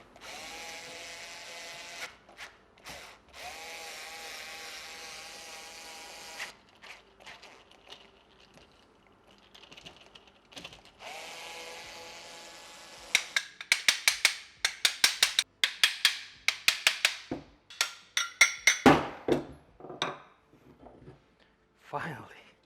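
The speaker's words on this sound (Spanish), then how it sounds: "Por fin se abrió después de un montón de martillazos." Repeated hammer blows strike a rusty, second-hand car alternator being forced open, a run of sharp metallic knocks in an uneven rhythm, close and loud, following stretches of mechanical whirring, with a person talking between them.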